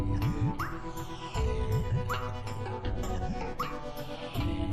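Chukotka sled dogs bark, yip and whimper in a close, busy chorus, with repeated short rising whines over overlapping barks throughout.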